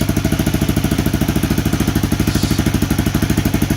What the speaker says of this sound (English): She backfired for a minute, but she crunk up.